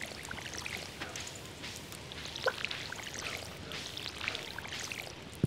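Crops watered with a watering can in the farming game Stardew Valley, faint trickling pours and soft drips repeating over a quiet background, no talking.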